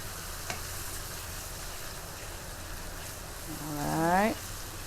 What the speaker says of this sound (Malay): ataupun kita tumis hingga dia garing.